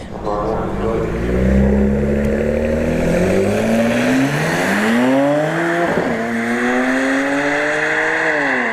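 A BMW 335i makes a drag strip run, its engine climbing loudly through rising revs with distinct gear changes, one sharp shift near the middle, then pulling hard again.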